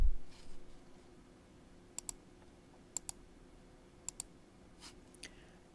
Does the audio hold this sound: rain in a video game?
no